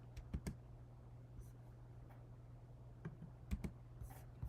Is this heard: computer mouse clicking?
yes